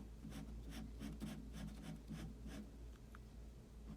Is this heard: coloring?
yes